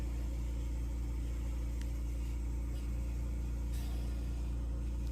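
An electric mandrel spinner runs in a glass-working studio, giving a steady, low motor hum that stays even and continuous throughout, with faint background hiss.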